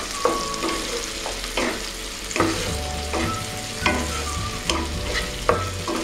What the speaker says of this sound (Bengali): সামান্য আমি নুন দিয়ে দিলাম, দিয়ে হালকা নাড়াচাড়া করব।